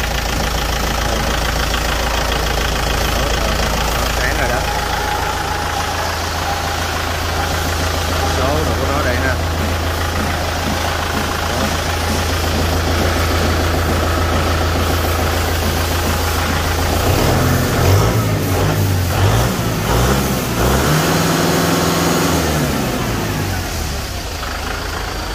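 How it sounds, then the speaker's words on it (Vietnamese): Kubota M6040 tractor with a steady, loud diesel engine idling close by, a continuous low rumble with knocking undertones that shifts pitch slightly near the end, while someone talks over it. "Kubota M6040 đây là động cơ nó đây"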